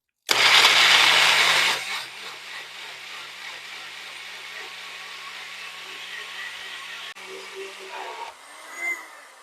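A kitchen blender whirs loudly as it starts up on a banana smoothie for bees, then settles into a steadier, quieter motor drone before cutting off, followed by a few faint clunks.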